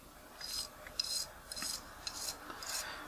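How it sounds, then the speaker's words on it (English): A toothbrush scrubs dust from a Nikon Nikkor 50mm f1.8 AF lens in short, close, faint bristly strokes, about five or six brisk passes with brief pauses between. "I get a toothbrush, this is what I did before, I just remove all the dust"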